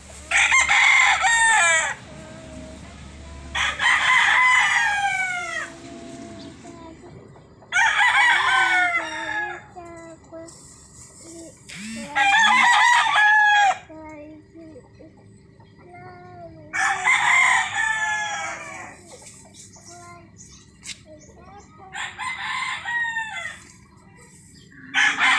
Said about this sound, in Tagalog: May manok pa dito.